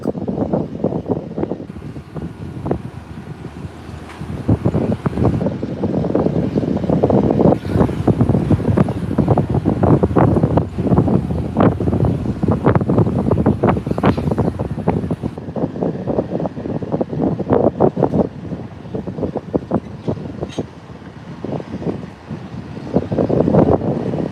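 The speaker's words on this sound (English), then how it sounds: "it's kind of windy up here." Strong gusts buffet the microphone at an airport plane-spotting location, with loud, continuous rumbling and blustery thumps throughout.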